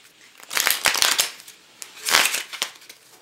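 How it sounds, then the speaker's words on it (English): A custom deck of playing cards is shuffled up close in two riffling bursts, crisp fluttering card flicks separated by a brief pause, loud and without any talk. "They shuffle nicely."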